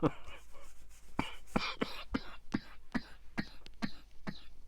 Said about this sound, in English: It's uncontrollable coughing I get into.